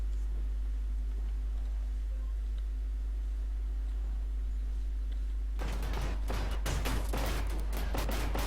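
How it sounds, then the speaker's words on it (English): A guided missile fires from a tank in the Armoured Warfare video game: a low steady hum for several seconds, then a loud, dense cluster of sharp blasts and crackling bursts close by. "Missile missed at point blank range because it wasn't really coming from the barrel of my gun"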